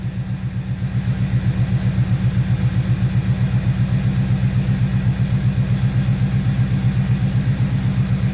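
An Oldsmobile 455 V8 idles with a valve tick, running on 20W50 oil: a steady, close engine drone with a fast, regular ticking pulse throughout.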